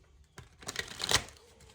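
Tarot card deck being shuffled by hand, a short riffle of crisp papery flutters that builds to a louder burst near the end, close and alone with no talk.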